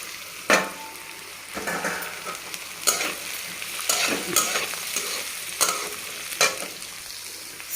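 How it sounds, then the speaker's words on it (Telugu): Chopped beans and carrots for vegetable fried rice tossed into a hot pan, a soft sizzle under repeated scraping stir strokes and a few sharper clatters of the spatula against the pan, no one speaking. "ఫ్రై అయిపోయి ఇప్పుడు ఈ 2 వేసేస్తున్నాను, బీన్స్, క్యారెట్."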